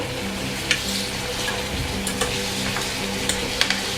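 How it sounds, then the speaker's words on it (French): Pineapple caramelizing with vanilla sugar in a pan gives a continuous loud sizzle, broken by occasional scrapes and light taps as the pieces are stirred, with no voices. "vous avez le droit de remuer un petit peu vos ananas"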